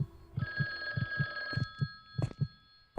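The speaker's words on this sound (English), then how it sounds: "You hear that heart racing?" A racing heartbeat in a horror video game thumps in a quick, steady double-beat rhythm, close and prominent, alongside a ringing telephone tone and sharp clicks.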